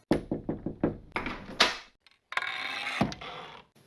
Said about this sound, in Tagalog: Kakatok na ako sa pinto.